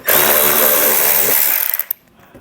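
Power tool whirring continuously as it removes 8mm screws holding a mud flap in the wheel well of a 2019 Subaru Ascent, loud and close, then a few short bursts before stopping.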